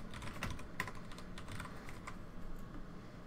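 Steady fast typing on a computer keyboard while code is written, a continuous patter of soft key clicks over a low room hum, close by and with no one speaking.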